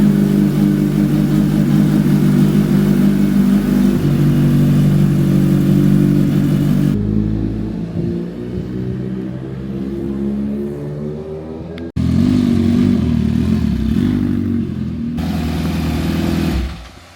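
Stage 3 2024 Kawasaki Ninja H2 supercharged motorcycle revving, a loud close engine holding high revs, dropping to a burbling idle with rising and falling blips, then roaring up again.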